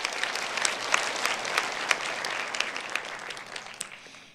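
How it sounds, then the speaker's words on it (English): Steady round of applause from a conference audience at an international women's peace event, dense clapping throughout at an even level with no talk. "please give a big round of applause to everyone who sent their congratulatory messages"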